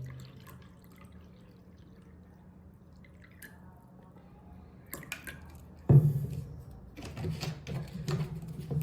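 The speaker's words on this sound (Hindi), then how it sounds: "अभी डालने जा रहे हैं इसमें पानी।" Water is poured into a container for a simple science experiment, a quiet splashing and trickling that starts faint and grows louder and more turbulent in the last few seconds.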